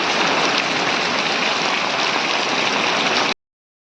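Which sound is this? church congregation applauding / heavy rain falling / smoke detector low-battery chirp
heavy rain falling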